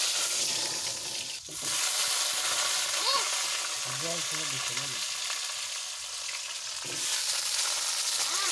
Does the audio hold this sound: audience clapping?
no